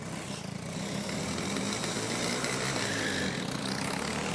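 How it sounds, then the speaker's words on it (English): A Formula Student race car engine at a 2021 dynamic event, heard as a steady, fairly distant droning hum that holds level without clear revving peaks, with no talk over it. "it sounds like this engine struggles to rev high and then struggles to transmit the power to the"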